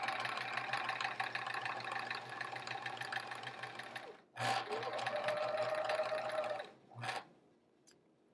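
A sewing machine runs steadily while stitching a quilt's sashing seam, butting up the last seam, with a brief pause near the end before two short final bursts.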